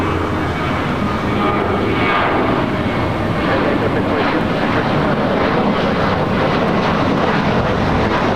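An airliner on its takeoff run at LAX from runway 25 left, a loud continuous engine roar that stays strong and close throughout, with faint voices under it.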